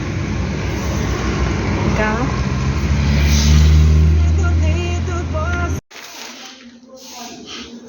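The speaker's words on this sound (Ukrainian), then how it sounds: "На роботу всі їдуть, бачите, движення." Morning road traffic streams past, a steady near rumble of cars and engines with a rising rev in the middle, then cuts off abruptly near the end.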